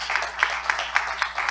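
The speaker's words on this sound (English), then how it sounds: "Good round of applause." Audience at a political forum applauds with a short burst of rhythmic clapping from a modest crowd, heard fairly close, with a steady hum underneath.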